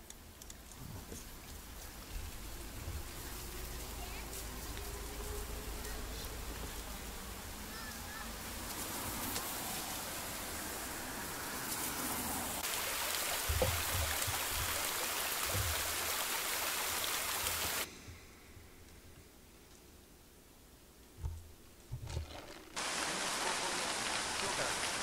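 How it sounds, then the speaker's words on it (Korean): Heavy rainy-season rain falls steadily outside a Japanese house in a game scene, a broad constant hiss with occasional heavier surges and drips, broken by a brief quieter stretch near the end before the downpour resumes. "그날은 비가 오는 날이었다"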